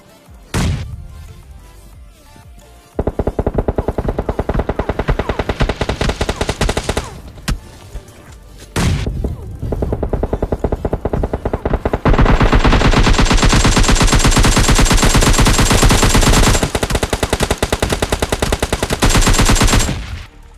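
Loud, rapid automatic gunfire in the mobile game PUBG Mobile Lite rattles in long sustained bursts, broken by a couple of heavy booms and short pauses.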